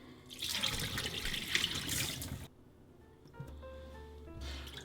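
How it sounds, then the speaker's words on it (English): Ginger and scallion broth for Hainanese chicken rice being strained: a loud, steady pour of liquid into a sink or strainer for a couple of seconds, followed by a quieter trickle and a faint tap-like flow. "Now we're going to strain it."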